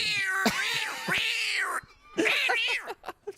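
Someone imitates a cat with a long meow, a short pause, then a second wavering meow trailing into little chirps, up close.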